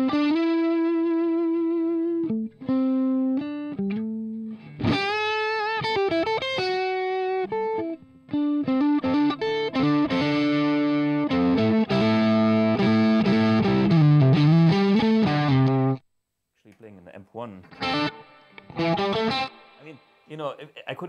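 Electric guitar through a medium gain Marshall amp plays chords and melodic lines with a slightly distorted, effects-coloured tone, loud and close, ending in short sparse notes after a brief pause.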